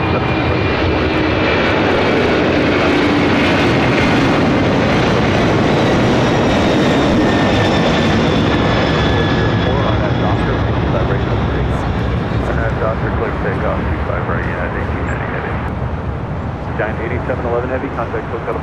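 An American airliner lands at LAX, its broad jet engine roar steady and loud throughout, with a thin high whine sliding across it and a radio voice heard under the noise.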